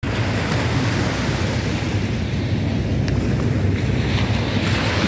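Sea waves washing onto the seashore at night under a cloud-veiled moon, a continuous broadband surf roar mixed with wind buffeting the microphone, steady and close with no voices.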